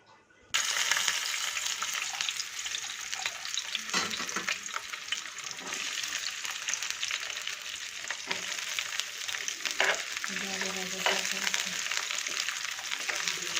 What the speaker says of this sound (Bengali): পেঁয়াজ আর রসুন একসাথে দিয়ে দিব, দিয়ে একটু লাল করে নিব আর কি।